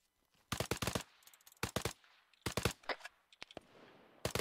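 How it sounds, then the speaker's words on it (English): Enemy gunfire in a military shooter game comes in rapid bursts of sharp automatic shots, several clusters separated by brief pauses. "They're shooting at the lights to try and mask their approach."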